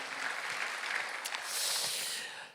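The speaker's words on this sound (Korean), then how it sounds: "다시 한번 박수치며 하나님께 올리세요." A church congregation claps together during a Sunday worship service, a dense, steady wash of hand claps that swells slightly toward the end, with no talking over it.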